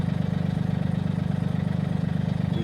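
Tractor engine fitted with a Woods RTR 6040 reverse-tine rotary tiller idles loud and close, a steady rapid low chugging pulse with no voices.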